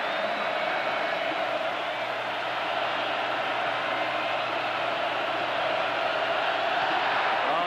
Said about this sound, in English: Crowd is alive, isn't it?